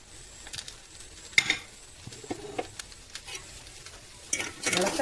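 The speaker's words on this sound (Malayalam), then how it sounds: "ഓരോന്ന് ഇട്ട് ഇളക്കാം" Fried rice being stirred in a pan at home, giving faint intermittent scraping and sizzling clatter at moderate distance, with soft background noise and brief louder bursts near the end.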